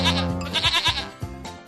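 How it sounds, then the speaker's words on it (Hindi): A goat bleats several times in quick succession, close and fairly loud, with a wavering, nasal cry heard on its own in an animated Hindi cartoon scene set near a rooftop fish farm. "ये क्या भाभी, मुझे तो बकरी की आवाज सुनाई दे रही है।"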